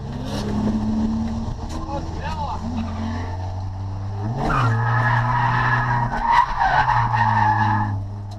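A car drifting on a race track, tires screeching and skidding loudly in long sweeps as the engine drones and revs up.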